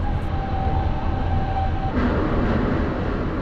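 An overnight sleeper train out of Prague trundles along the rails with a steady, close rolling rumble and a thin sustained whine, with no voices over it.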